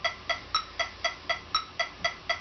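A Dorian scale drill in even 16th notes, each note started with the middle finger, comes as a quick regular run of about ten evenly spaced plucked bass notes, bright and close with no talking.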